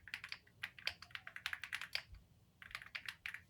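Quick bursts of clicky keystrokes on a budget mechanical keyboard come in uneven runs with a short pause midway, crisp and close, no one speaking.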